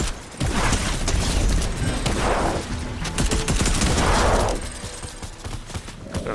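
A minigun in the Fortnite video game fires in long continuous bursts with booming impacts, loud and close, rising and falling in intensity for several seconds.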